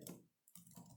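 Quiet, close keystrokes on a computer keyboard, a short cluster of taps, a brief pause, then more clicks.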